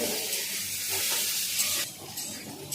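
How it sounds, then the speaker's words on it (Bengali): Potatoes and cauliflower fry in a pan with onion and cumin, giving a steady close sizzle and hiss with light stirring scrapes, a quieter stretch near the end, and no talking. "পেঁয়াজ আলু দিয়ে জিরে ফোড়ন দিয়ে এদিকে হচ্ছে সে রান্না চলছে আলু ফুলকপির একসঙ্গে দিয়ে দিয়েছি"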